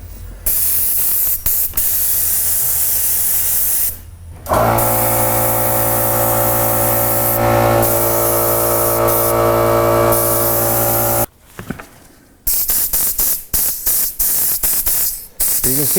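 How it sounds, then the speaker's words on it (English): An airbrush at high pressure sprays opaque base coat paint, a loud, close hiss in several bursts, one long steady run in the middle, with short spurts and pauses near the end. "You can see the airbrush still really isn't that clogged up, and I've got a base coat on"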